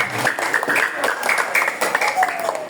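Children at a school Isra Mi'raj event clap their hands together, a scattered patter of claps under continuous talk and a background voice.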